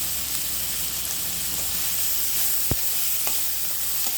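Carrots, beans and capsicum sauté for vermicelli kichadi, giving a steady close sizzle with a few faint clicks of stirring and one sharp tap against the pan.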